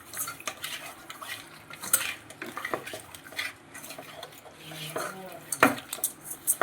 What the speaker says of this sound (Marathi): तर आता मी ह्याच्यामध्ये थोडीशी हळद घालून घेणार आहे। हळद थोडीशी जास्त टाकायची, म्हणजे ते कलर व्यवस्थित येईल त्याला। आता ह्याला मिक्स करून घेते मी।